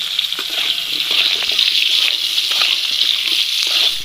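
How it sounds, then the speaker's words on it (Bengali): Gobindobhog rice being washed, with steady rushing, splashing water throughout, close and loud. "সেখানে গোবিন্দভোগ চাল নেওয়া হয়েছে, চালটা আমি একটু ভালো করে ধুয়ে নেব।"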